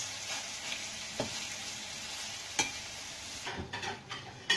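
Eggplant and minced pork stir-fried in a pan give a steady close sizzle, with a few sharp spatula scrapes and clacks against the pan, louder in a cluster near the end.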